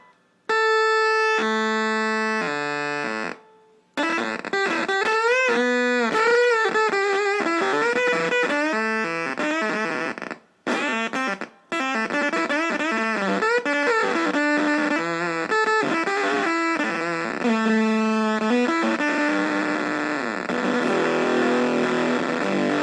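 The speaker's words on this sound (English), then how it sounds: "I'll just hold this high E and see what happens." An electric guitar played through a home-made germanium fuzz pedal gives a loud, thick, buzzing distorted tone, sustained notes and a run of shifting pitches with a couple of brief pauses, no voices.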